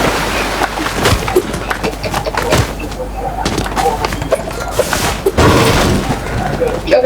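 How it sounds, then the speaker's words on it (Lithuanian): Scattered gunshot cracks and thuds from a Fortnite match pop out at intervals beneath near, continuous chatter between players. "Čia kažkur šaudo, čia kažkur"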